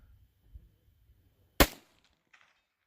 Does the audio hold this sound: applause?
no